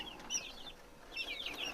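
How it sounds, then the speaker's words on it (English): Isa Brown hens and broilers cluck and chirp in short, high, wavering bursts over a constant low barn hum, the calls rising in two clusters at moderate distance with no talking. "a busy chicken is a good chicken"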